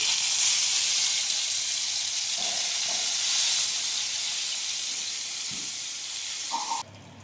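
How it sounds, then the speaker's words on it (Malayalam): Hot coconut oil sizzles steadily in a heated pan before mackerel is added for frying, a continuous close hiss with a few brief clinks, no talk. "ചൂടായ പാനിലേക്ക് വെളിച്ചെണ്ണ ഒഴിച്ചു കൊടുക്കുന്നുണ്ട്"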